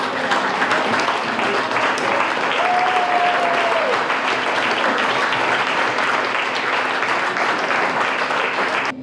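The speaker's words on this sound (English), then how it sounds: "We just want to give you a huge round of applause." Loud, sustained applause from a large audience at a teacher appreciation event fills the room, a continuous roar of clapping with a faint whistle rising briefly partway through.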